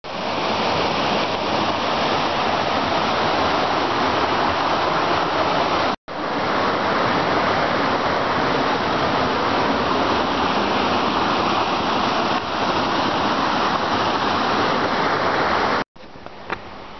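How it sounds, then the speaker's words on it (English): Mooney Creek flowing along a wooded trail, a steady loud rush of running water heard close and alone, with two brief dropouts. "This is Mooney Creek that runs along the Laurel Creek Falls Trail."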